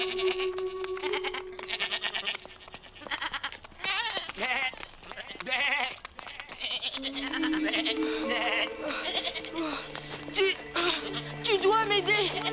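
A herd of goats bleats repeatedly up close, cries overlapping and rising in pitch, mixed with busy background activity throughout.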